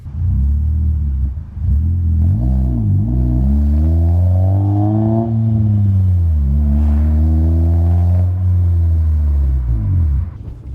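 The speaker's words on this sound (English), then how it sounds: "See a Corvette right in front of me?" A Chevrolet Corvette engine runs loud and close, its deep rumble rising and falling through steady revs with pitch sweeps and no pauses.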